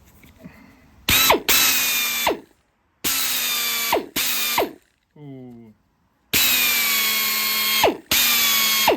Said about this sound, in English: Something nice about the drill, isn't there?